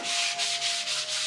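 Hand sanding on wood with 220 grit sandpaper, a close, steady rubbing rasp in quick repeated back-and-forth strokes, about five passes, with no other sound.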